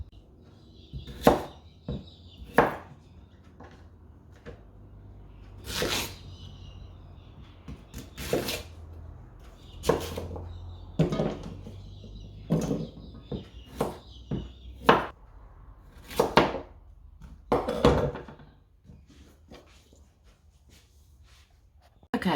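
Peeled vegetables are chopped with a knife, sharp separate thuds on a board arriving irregularly, sometimes in quick pairs, close and clear against a quiet room, with no talk.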